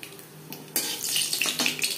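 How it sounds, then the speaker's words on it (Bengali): Black cumin seeds fry in hot mustard oil in a pan, a soft sizzle with a metal spoon scraping and clinking against the pan, growing louder partway through. "15-20 সেকেন্ড কালো জিরে ভেজে নেওয়ার পর দিয়ে দেবো ঘ্যাটকল বাটা।"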